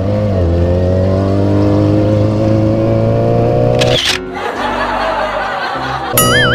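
Yamaha YZF-R6 sport motorcycle engine droning loudly and steadily at high revs, then dropping off briefly before picking up again, with the rider's voice coming through near the end.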